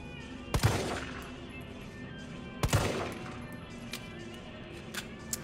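Gunfire in the Resident Evil 3 remake as a player shoots at zombies: two loud, sharp shots about two seconds apart, each with a short ringing tail, then faint scattered clicks and knocks in a quiet game scene.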